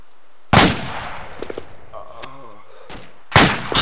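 Gunfire in a video game shootout: loud, close shots crack out in separate bursts, one heavy blast followed by scattered smaller reports and another sharp volley near the end, with a voice speaking briefly between the shots.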